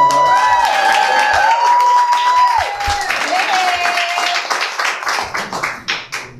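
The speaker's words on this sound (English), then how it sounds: "Give her a round of applause." An audience claps at a community event as a guest comes up, with scattered clapping and cheers under a strong tonal sound and some background voices, tapering off toward the end.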